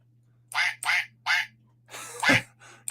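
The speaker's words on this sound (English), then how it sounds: "we will give you a quack too" A rubber duck or duck call gives several loud, close quacks in a quick run, with a hum underneath, during a cruise-ship celebration.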